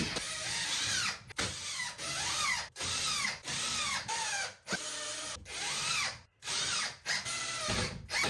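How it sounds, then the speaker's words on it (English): A power drill drives screws into sheetrock during a bathroom drywall repair, with about seven loud, close whirring bursts that rise and fall in pitch, separated by short pauses and no talk. "I secured all of my sheetrock using sheetrock screws."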